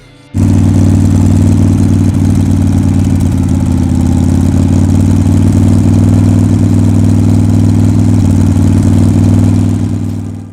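A Honda VLX 400 Steed motorcycle engine idles close by for the whole stretch, a deep, even low rumble that starts abruptly and holds at a constant pace before tapering slightly at the end.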